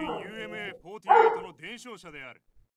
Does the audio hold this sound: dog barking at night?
yes